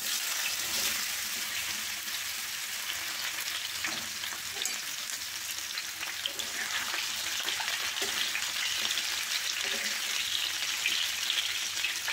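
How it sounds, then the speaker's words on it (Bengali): Mango pieces fry in hot oil in a wok with a steady, close crackling sizzle that holds evenly throughout, with light popping and no talking. "তেলটা ভালোভাবে গরম হয়ে যাওয়ার পর এর মধ্যে আমের টুকরোগুলো ঢেলে দেব।"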